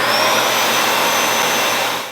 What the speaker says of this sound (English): We're gonna go ahead and start up the vacuum.